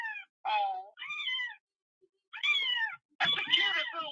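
A cat meows repeatedly in close, loud, drawn-out calls, four separate cries with short pauses between them, the last one harsher and more strained.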